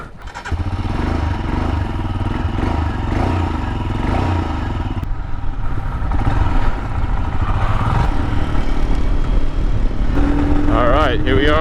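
A 2022 Royal Enfield Himalayan single-cylinder motorcycle rumbling steadily on a ride around Temecula, its engine drone constant and close with wind and road noise mixed in, and a rider speaking over it.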